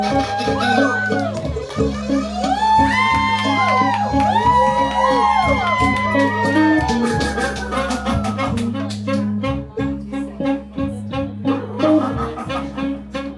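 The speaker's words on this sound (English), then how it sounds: "And the crowd goes wild." A crowd cheers, whoops and shouts over loud pulsing music at a live comedy and freestyle show at P.J. O'Brien's in Bangkok, the noise sustained and energetic before thinning out toward the end.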